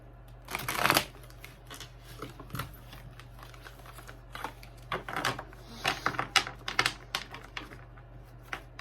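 A deck of cards is shuffled during a reading, giving a few brisk riffling bursts at close range separated by quieter pauses, with no talk over them.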